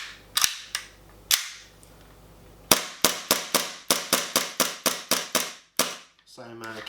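WE P226 and P228 airsoft pistols firing, sharp loud cracking shots close by, a few spaced single shots and then a quick rhythmic string of about a dozen, ending with a metallic rattle.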